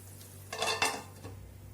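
Hyderabadi dum ka kheema is served out of a pan, with a few short metallic scrapes and clinks of a spoon against the cookware, quiet and close, with no talking.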